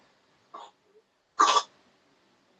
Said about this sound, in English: whoever is coughing